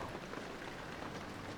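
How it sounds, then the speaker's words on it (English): Rain in the horror game Amnesia: The Dark Descent falls as a steady, even hiss with a soft low rumble beneath, continuous and moderately loud. "Cozy Rain"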